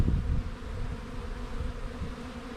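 Honey bees swarm densely in an open five-frame hive during an inspection, a thick continuous buzz close by with no voices over it.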